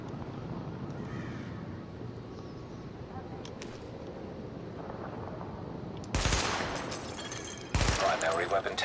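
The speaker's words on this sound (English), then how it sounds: "Open fire at the highlighted targets." Automatic weapon fire at highlighted targets on a weapon-test range in Tom Clancy's The Division: two loud, close, sustained bursts over a steady background hum, the second burst shorter and sharper than the first.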